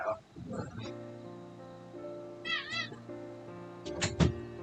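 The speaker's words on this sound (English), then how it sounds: "let my cat out." A cat meows several times, quiet and close, between stretches of other indoor noise, with a person talking nearby.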